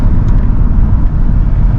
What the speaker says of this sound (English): Here's a downshift.